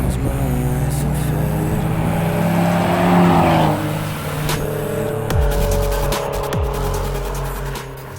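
An Abarth 595 Turismo drives with a loud, close exhaust note that rises as it revs, eases off, then crackles and pops in a rapid burst during a gear change before pulling again.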